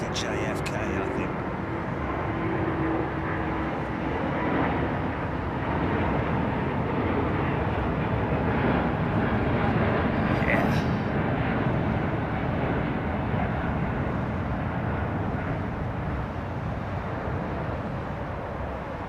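An Airbus A350 jet departing for JFK, a broad continuous engine roar holding steady at a distance throughout, with people talking over it.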